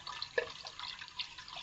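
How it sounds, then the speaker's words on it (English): Water trickles and drips into a pot of dal for soaking during outdoor village cooking, soft splashes and droplets scattered irregularly, faint and close. "We're going to add our water and start soaking the dal."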